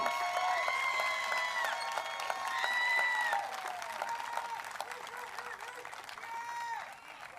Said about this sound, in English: Can we get just a small round of applause for your 2019 state champions?